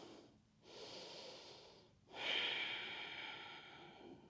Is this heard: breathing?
yes